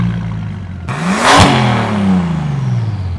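A Bentley GT Speed engine on a race track rises sharply from a low idle-like drone into a loud, close rev, its pitch climbing and then settling into a steady strong roar.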